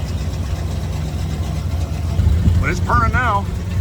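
A 1980s Mopar police car engine idles steadily with a low, even rumble, and voices talk over it near the end.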